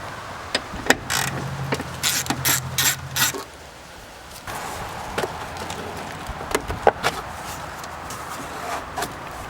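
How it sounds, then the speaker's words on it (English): A hand ratchet works a 10mm bolt by the airbox of a BMW E39 with the M54 engine. Quick bursts of close metallic clicking come first, then sparser single clicks and handling noises. "Remove the 10mm bolt here."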